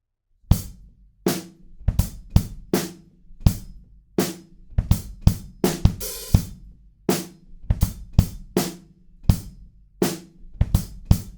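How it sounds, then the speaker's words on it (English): A sparse drum groove with kick and snare hits and a stripped-back, broken-up hi-hat pattern, leaving gaps between strokes; one crash splashes midway. "we break it down even further on the hi-hats"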